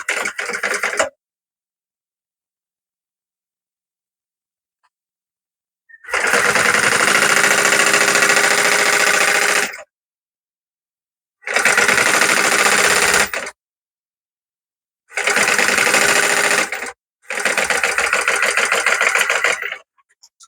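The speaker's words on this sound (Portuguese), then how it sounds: "Vou trazer aqui para a máquina e vou passar uma costura de pé de máquina." A sewing machine stitches fabric pieces together in a seam, running in four loud, steady mechanical bursts of rapid needle chatter, separated by silent pauses and a brief stretch of sound at the very start.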